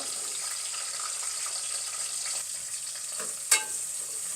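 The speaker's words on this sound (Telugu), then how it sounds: "ఇది బాగా మిక్స్ చేసుకుంటాము ఈ బ్రౌన్ కలర్ వచ్చేదాకా వేపుకుందాము" Onions frying in oil with cinnamon and cloves give a continuous close sizzle, with a single sharp scrape of stirring near the end and no speech.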